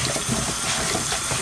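Tap water runs steadily into a sink as a Silhouette or Cricut cutting mat is rinsed, making a continuous close hiss with no talking over it.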